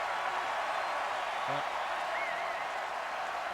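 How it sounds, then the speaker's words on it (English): A college football crowd roars at War Memorial Stadium during LSU at Arkansas, a steady distant wash of crowd noise with no breaks, a brief whistle-like tone rising over it. "listen to this crowd at War Memorial Stadium"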